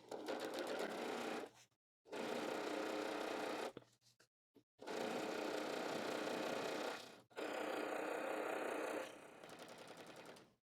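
Sewing machine fitted with a 10/70 needle running across apron fabric in several loud, steady bursts separated by short pauses, with no backstitching.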